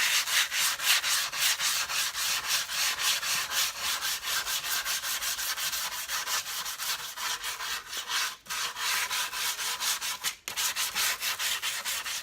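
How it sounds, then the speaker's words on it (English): Sandpaper rubbed back and forth over a bass drum head to flatten bumps, a close, rhythmic scratchy rasping in quick regular strokes with two brief pauses, no voices. "let me just sand out all the bumps"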